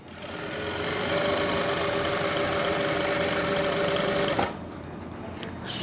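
Electric sewing machine stitching palazzo pants with elastic: a steady, close, continuous whirring hum for about four seconds, then stopping abruptly and leaving only quiet room noise.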